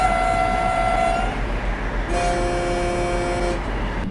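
A train horn in the Train Simulator 2020 game on the route from Naila to Kronach sounds two long sustained blasts separated by a short gap, loud and close over a low rumble, with no speech.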